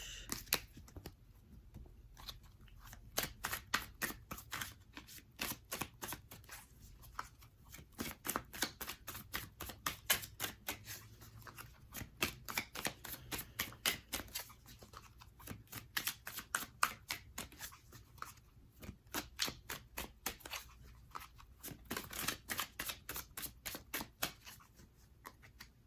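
Tarot cards are shuffled by hand in long bursts of rapid, crisp riffling flutters, close and fairly quiet, repeating with short pauses between runs.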